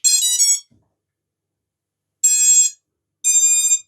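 An FPV drone flight controller beeps after power is applied: three short, bright electronic tone bursts, each under a second, with a long pause after the first and a shorter gap between the last two, clear and close with no talk.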